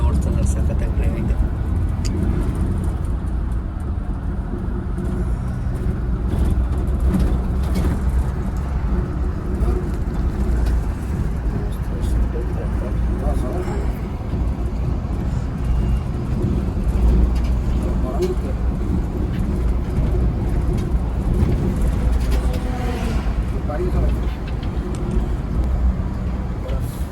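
Inside a Volvo B8R coach travelling on the road from Delhi to Manali, a steady loud low engine drone and road rumble fill the cabin continuously, with faint rattles over the top.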